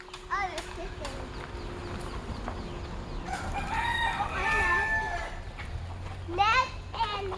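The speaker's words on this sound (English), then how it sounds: "Oh, there's chickens." Wild chickens on a forest hiking trail near Manoa Falls in Hawaii crow and cluck a few times at mid distance, heard alongside children chanting and talking nearby.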